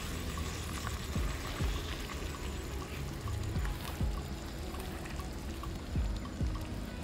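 Water is poured into a mashed chicken mixture for pakoras, producing a soft, steady pouring wash with a few dull thumps, low and continuous throughout.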